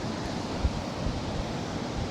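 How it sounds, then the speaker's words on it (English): Wind gusting outdoors during an exercise class near the surf, a steady broadband rush with a slight buffeting thump against the microphone, no voices. "And I'm fighting some wind here."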